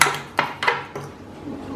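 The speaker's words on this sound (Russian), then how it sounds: "Хорошенечко перемешиваем, чтобы масса была однородной." Thick, sour-cream-like dough for Easter buns is stirred in a bowl, giving a few soft scraping knocks of a utensil against the sides, brief and fairly quiet.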